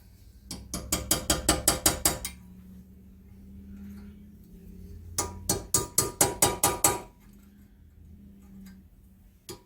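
Two bursts of rapid metallic hammer taps on a stuck part during exhaust manifold work on a 1974 Dodge D100 with a 225 Slant 6, about eight blows each, close and ringing with quiet gaps.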